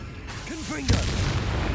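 A Confringo spell explosion in Hogwarts Legacy hits with one sharp boom after a short rising magical whoosh, followed by a rumbling tail, with a voice calling out just before the blast.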